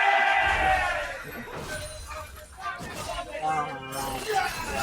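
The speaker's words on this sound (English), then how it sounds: "They are cheering, they are chanting, they are singing right here for 200 Bandits" Esports arena crowd at a grand final match cheers and chants in loud waves, with rhythmic group voices rising near the end and a caster talking over the noise.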